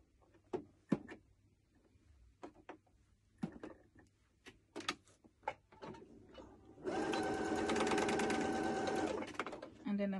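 Scattered clicks and handling knocks give way to a sewing machine running steadily for about three seconds as it hems the edge of a peplum top, close and moderately loud.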